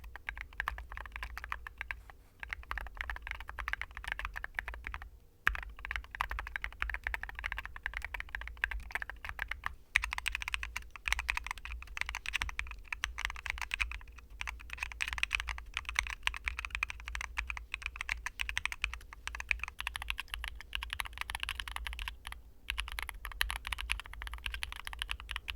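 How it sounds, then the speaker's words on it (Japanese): A mechanical keyboard with linear red switches is typed on steadily in fast, dense clusters of clicky-thocky keystrokes, close and fairly quiet, as different keycaps are compared; no one speaks. "キーキャップを変えたことによる音の変化を実験した動画になります"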